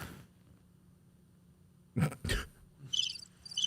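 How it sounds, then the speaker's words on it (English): Crickets chirp as a sound effect, a brief cluster of high chirps near the end, preceded by a couple of louder soft thumps over quiet background hiss. "Crickets? Crickets."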